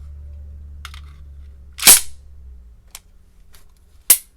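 Heckler & Koch P7 squeeze-cocker 9x19mm pistol being tactically reloaded: a soft rattle, then a loud sharp metallic clack of the magazine or slide, a couple of faint ticks, and a final crisp snap, close and alone.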